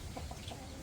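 A chicken clucks softly a few times in quick succession, faint against a low background hum.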